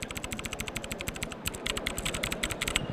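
Fast, steady typing on a Tecware Spectre Pro mechanical keyboard with blue switches, each keystroke a crisp, clicky tap close to the mic, heard alone without any talk.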